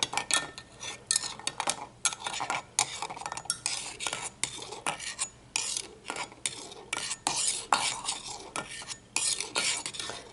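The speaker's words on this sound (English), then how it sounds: "you can agitate it and stir it around a little bit" A metal tea egg filled with cloves is stirred and jiggled in a hot orange-and-lemon toddy, giving a busy run of close, bright metallic clinks and rattles against the cup.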